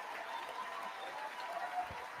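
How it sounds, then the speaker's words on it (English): Standing ovation at a State of the Union address: steady, distant applause from a large chamber audience, a soft continuous patter of clapping at low level. "He's getting like a standing ovation, bro."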